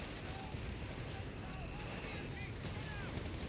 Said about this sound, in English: MG suppressing the rifleman, forcing it back.